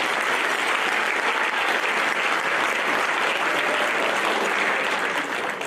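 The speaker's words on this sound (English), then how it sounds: "give a round of applause." Dense, steady applause from a high school concert audience, loud and continuous throughout without letup, many hands clapping at once in an auditorium setting.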